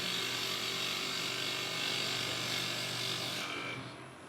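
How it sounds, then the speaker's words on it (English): A 3/8 bowl gouge cuts wood on a spinning lathe during a woodturning club demonstration, producing a loud, steady, continuous shaving roar that fades slightly at the end. "Just a 3/8 bowl gouge."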